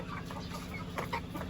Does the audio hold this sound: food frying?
no